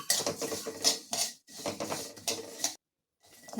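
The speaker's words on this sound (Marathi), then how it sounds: "बियांच्या मस्त आवाज येतोय चटचट" Seeds roasting in a pan for winter nutritious laddus, crackling close and loud in dense scratchy bursts with scraping stirring, broken by a short silent pause near the end.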